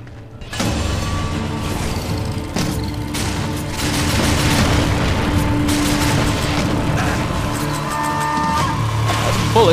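Gunfire and explosions from the video game Darksiders 2 play continuously and loud, with layered booms, mechanical clanks and rumbling effects over a dense game soundtrack, and no talk.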